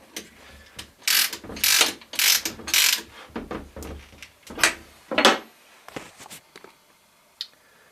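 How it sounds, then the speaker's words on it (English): A router bit is swapped on a woodworking router, giving a series of close metallic clicks, ratcheting turns and sharp knocks in irregular bursts, with quieter handling noise between. "I'm changing the straight bit to that 1-inch round bit."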